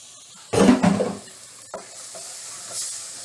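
Celery, red pepper and jalapeños stirred in a pan at medium heat for a quinoa black bean corn salad: a loud burst of sizzling scraping, then a brief clack and faint hissing as the food settles.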